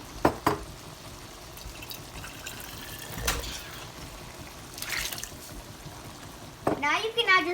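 Water poured into a pot of pasta sauce made with canned and diced tomatoes for a ground beef pasta. Short trickling splashes come in separate bursts, close and fairly quiet, with gaps between them.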